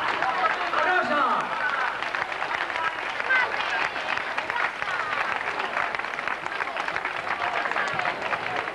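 A roadside crowd applauds a female runner at the 1997 Volta a peu footrace in Sueca, with dense, steady clapping that stays loud and continuous for the whole stretch, and voices mixed faintly into it.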